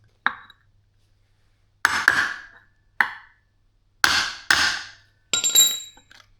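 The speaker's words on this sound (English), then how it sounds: "I'm gonna give it a few more little taps, make sure it's snug" Light, sharp taps seat a part on a BMW K75RT motorcycle: about six separate metallic knocks, some in quick pairs, each ringing briefly against silence.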